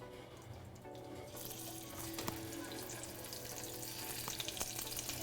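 Steady sizzling of scallops searing in a hot pan, broadband hiss building slightly louder partway through, with a few faint clinks; no voices.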